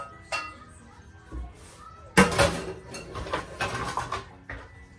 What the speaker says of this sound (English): now I'm going to add the potatoes right in here